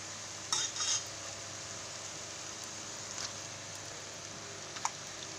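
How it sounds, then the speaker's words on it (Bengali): Chicken added to cooked-down masala in a kadai, with a couple of short, quiet scraping stirs over a faint, steady sizzle and a light clink near the end. "এবার এই কড়াইয়ের মধ্যে চিকেনটা দিয়ে দেবো"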